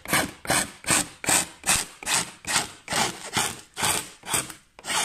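A hand file rasps back and forth along the edge of a wooden kitchen worktop in about eleven loud, even strokes with a steady rhythm, close by with no talking.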